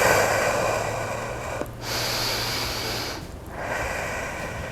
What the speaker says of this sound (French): Donc, on prend 2 bonnes respirations.